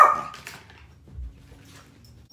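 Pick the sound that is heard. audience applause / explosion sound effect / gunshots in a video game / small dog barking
small dog barking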